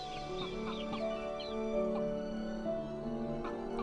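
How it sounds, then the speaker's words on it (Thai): Hen clucking in the video game All Of You, a brooding mother hen sitting on her nest, with repeated soft clucks and chirps over a steady background music bed, no talking. "เป็น แม่ไก่นะกำลังกกเลยตัวนี้"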